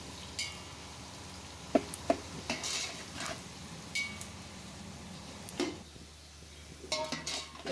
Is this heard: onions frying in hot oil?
yes